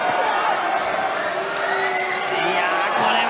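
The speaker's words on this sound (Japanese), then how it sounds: "場内からはブーイング" Arena crowd at a 1994 women's professional wrestling match, a dense, steady roar of voices with booing and shouts, under a commentator talking throughout.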